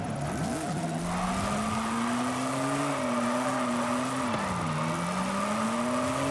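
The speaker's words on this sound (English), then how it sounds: "Yeah, 5th gear is struggling a little bit here." A classic Maserati engine in Forza Horizon 5 drones steadily in 5th gear, its pitch sagging and wavering as it struggles to pull, with a continuous loud hum and faint tire noise throughout.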